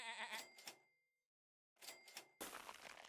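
Cartoonish sheep bleats from the game Super Auto Pets: a couple of quick, bright bleats, a short silence, then more bleats followed by a chiming register-like jingle.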